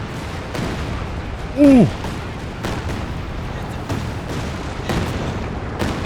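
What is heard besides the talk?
Calliope rocket artillery barrage in Company of Heroes 2 video game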